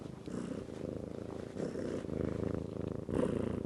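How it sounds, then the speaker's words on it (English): A cat purrs steadily and close by, a continuous low rumbling throughout with slight swells in loudness. "He's such a purr monster."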